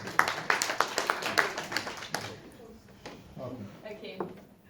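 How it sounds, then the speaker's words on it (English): A small group at a workshop claps briefly in a loose rhythm, the clapping fading after a couple of seconds while voices and light clatter carry on. "let's give them applause for this"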